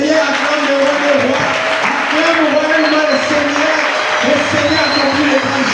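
A church congregation claps and cheers in praise of the Lord, a steady, loud wash of applause running throughout while a voice sings or calls out over it.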